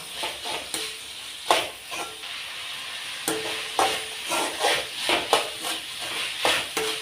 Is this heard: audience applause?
no